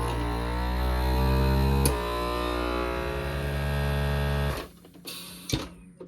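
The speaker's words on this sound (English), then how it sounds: "Then turn on your vacuum sealer and push accessory." A vacuum sealer pumps air out through a jar attachment, giving a loud steady motor hum with a pitch that drops partway through, then cuts off with a few clicks near the end.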